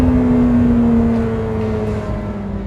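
A Lamborghini Temerario V8 supercar screams high up its rev range toward 10,000 rpm, a loud sustained engine tone that shifts pitch with a quick aggressive gearchange, heard close from inside the car.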